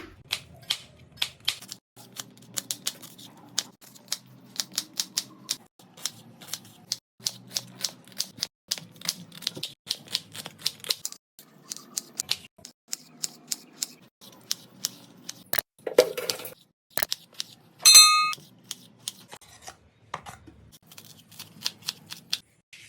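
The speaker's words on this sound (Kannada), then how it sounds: "ಇವಾಗ ನಾನು ಮೆಣಸಿನಕಾಯಿನ ಕಟ್ ಮಾಡ್ಕೊಳ್ತಾ ಇದ್ದೀನಿ" A knife chops green chillies on a board in quick, sharp, steady taps, close and fairly soft, with short pauses and a brief clatter near the end.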